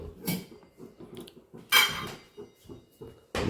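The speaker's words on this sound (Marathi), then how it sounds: "भांडी काढल्यात डबे वगैरे सगळे घासणार चालू आहेत बघा" Metal pots and storage containers being scrubbed and handled during household cleaning, giving a series of close clinks and scraping knocks at an uneven pace with short pauses between them.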